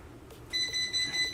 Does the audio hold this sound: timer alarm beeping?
yes